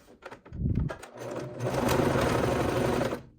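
A sewing machine stitches fabric edges in two bursts, a brief one, then a longer steady whirring run, close and clear with no talk.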